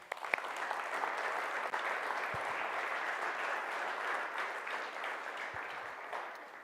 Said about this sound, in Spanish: Ahora dale un aplauso al Señor.